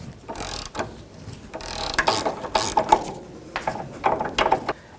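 A 14mm socket wrench ratchets as it loosens the lower nut of a front sway bar link on a 1998-2002 Honda Accord, with the stud held by locking pliers. The clicks come in uneven bursts, close and fairly soft.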